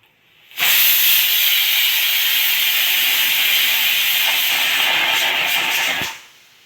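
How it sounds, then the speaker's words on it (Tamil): A pressure cooker cooking traditional Mappillai Samba rice kanji lets out a loud, continuous jet of steam that starts abruptly, holds steady for about five seconds, then cuts off and fades. "ஸ்டீம் அடங்கியாச்சு வெயிட் எடுத்து பார்க்கலாம்"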